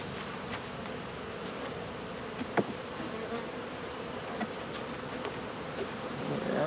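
Honey bees hum in a dense, steady buzz around an open hive on a cold spring day, with a few louder individual bees zipping close past now and then.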